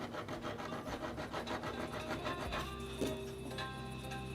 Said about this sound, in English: I'll come back in here with some 1000 grit and just get them cleaned up so that they're nice and shiny and polished